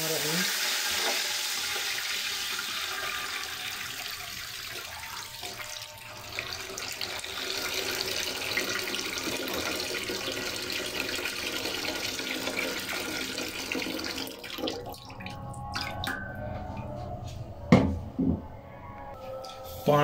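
Water runs from a tap into a cooking pot of rice for biryani, a steady hissing splash that fills most of the stretch, fading near the end into a few clunks and light handling sounds.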